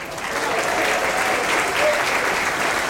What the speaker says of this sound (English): bring him on with a huge round of applause